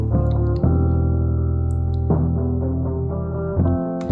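Music played through an equalizer that removes everything above about 4000 Hz, leaving a dull, muffled sound with full bass and sustained chords that change every second or two, with no speech.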